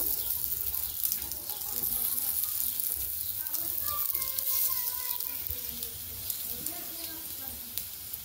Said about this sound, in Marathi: त्यानंतर ते आपल्याला मंद आचेवरती भाजायचे आहे।